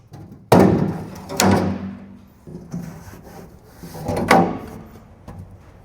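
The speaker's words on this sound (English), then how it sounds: "The last thing we need to do is pop the trim off" Door trim being popped off a chrome International Scout, a few sharp plastic-and-metal snaps and thunks up close, with scraping and rubbing between them.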